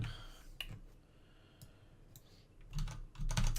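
Scattered clicks from typing on a computer keyboard, a few sparse keystrokes at first and then denser bursts near the end, close and fairly quiet, with no talking.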